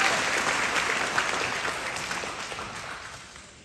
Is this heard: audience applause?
yes